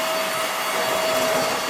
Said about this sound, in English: I'm going to try the Hoover.